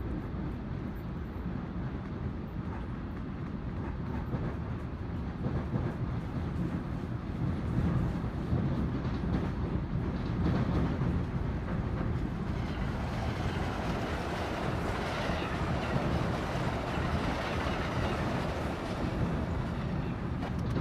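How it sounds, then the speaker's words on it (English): Deep, steady rumble of a train passing through an underground tunnel beneath the listener, a broad continuous roar that swells slightly midway and holds for about twenty seconds with no talking. "See, you could literally hear the train underground."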